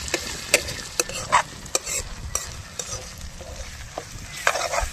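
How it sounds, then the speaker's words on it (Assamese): Ginger-garlic paste hisses and sizzles as it fries with onions in a pan, steady frying noise broken by sharp scrapes and taps of a spoon stirring, close and moderately loud with no talking. "এতিয়া দিলে আমাৰ আদা নহৰুৰ বটা।"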